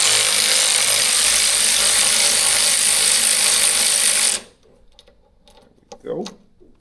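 A half-inch ratchet clicks steadily while loosening an exhaust clamp on a motorcycle, close up and continuous for several seconds, then stopping abruptly into near quiet with a brief knock afterward.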